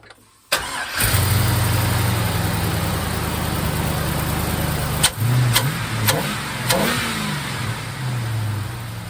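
An LS V8 swapped into a 1951 Hudson cranks briefly and fires up loudly, settling into a rough, steady idle with a few quick throttle blips, close and without talking.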